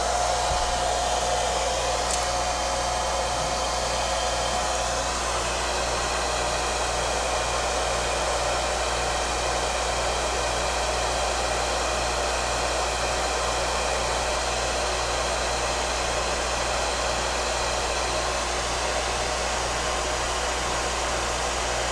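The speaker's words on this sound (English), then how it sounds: "So I turn my blower on." A hair dryer used as a blower for a physics experiment with heat and infrared runs steadily and loudly for the whole stretch, a continuous broadband rushing drone with a faint whine and no voices.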